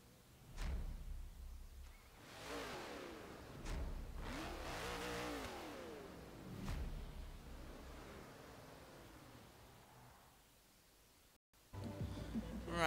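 An off-road car in Forza Horizon 3 revs repeatedly, its engine swelling and falling in several loud surges, then settling to a lower drone before a sharp cut and a renewed roar at the end.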